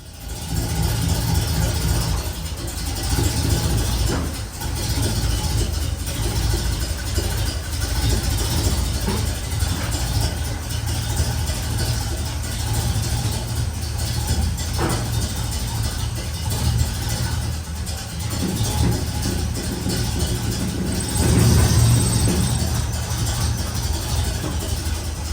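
A car engine running steadily at idle, a loud, continuous low rumble that holds even throughout with a slight swell near the end, no talk over it.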